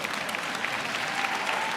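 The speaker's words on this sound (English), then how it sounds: "somebody ought to clap on that." Steady dense clapping from an audience at a motivational talk, a continuous wash of many hands at even loudness, brief and with no voices over it.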